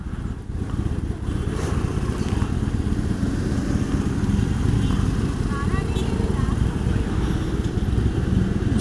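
Motorcycle riding through Bangalore streets, a continuous close engine drone with road noise and brief voices over it.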